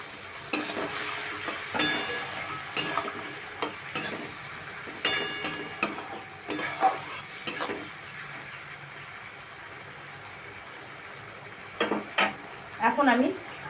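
Soybean chilli mixture frying in a pan, with water poured in and stirred through, giving a steady sizzle broken by scattered scraping clinks of a utensil on the pan, plus a brief burst of bubbling near the end.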